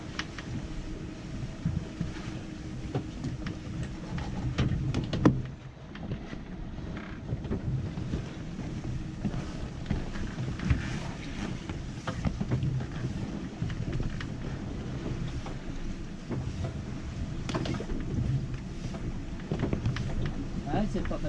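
A sailboat beating upwind off the Embiez islands toward Port Pin Rolland, with steady wind rush across the microphone and the wash of water along the hull, continuous and close, with voices talking now and then.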